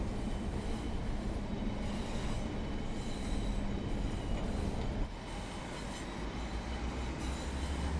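A London Overground train in Train Sim World 4 runs along the Gospel Oak to Barking Riverside line, a steady loud rumble of wheels on rail with faint clatter and squeal that holds constant, easing slightly toward the end, with no talk.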